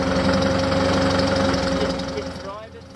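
A 4x4 off-road vehicle, Defender or Hilux, working its engine up a rocky step on a technical bush track; the motor drones steadily and loud at close range, then eases and fades toward the end.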